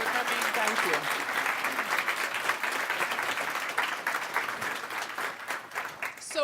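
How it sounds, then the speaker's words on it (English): Audience at a business resource night gives a round of applause, steady, dense clapping at moderate volume that continues throughout, with some voices mixed into the crowd. "Let's give her one more round of applause."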